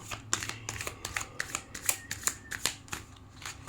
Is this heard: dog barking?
no